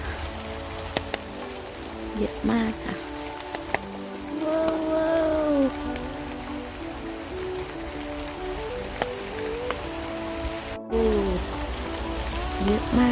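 Heavy rain patters steadily onto a purple heath field at Ten Haagdoorn in Limburg, Belgium, a dense, close hiss of drops, while a flock of sheep bleats and someone talks intermittently.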